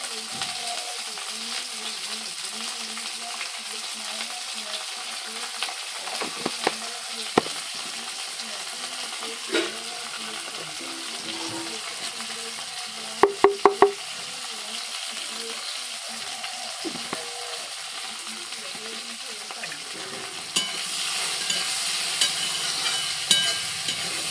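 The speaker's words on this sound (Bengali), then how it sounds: "ভেন্ডি দিয়ে দিয়েছি ভাজার জন্য, ঠিক আছে।" Sliced okra fries and sizzles in a pan as it is stirred, with a steady hiss running throughout. Occasional sharp clinks of the utensil against the pan come through, and no one talks.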